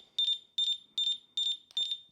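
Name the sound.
dog training collar remote beep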